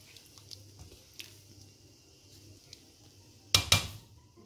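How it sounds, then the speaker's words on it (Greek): A spoon stirs beef soup with chia seeds and groats in a pot, giving soft quiet scrapes and swishes, then two sharp clinks of metal against the pot near the end. "Ανακατεύουμε."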